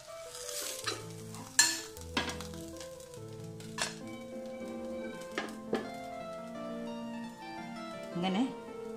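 Uthappam cooking on a hot pan, with a soft steady sizzle under background music, punctuated by clinks and scrapes of a spatula or utensil against the pan.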